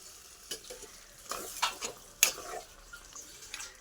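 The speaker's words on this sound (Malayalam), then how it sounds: "ഇത് നമ്മൾ നേരത്തെ വേവിച്ച് വെച്ചിരിക്കുന്ന ബീഫാണ് ആ വെള്ളത്തോടു കൂടി നമ്മൾ ഇതിലേക്ക് ഒഴിച്ചു കൊടുക്കണം" Pre-cooked beef poured in with its cooking water for a Kerala-style beef roast, then stirred in a pan: soft sizzling with scattered scrapes and clinks of a spoon against the pan, quiet and close.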